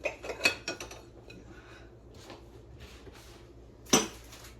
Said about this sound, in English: let's put some of these dishes away first.